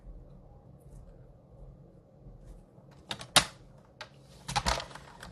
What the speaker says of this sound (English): I am going to pull out my trimmer and trim this down